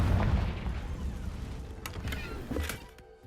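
Confringo fire spell going off in the Hogwarts Legacy video game: a dense rumbling blast that fades out, with a few sharp cracking bursts near the end.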